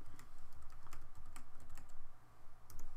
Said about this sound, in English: So I'm gonna type materials.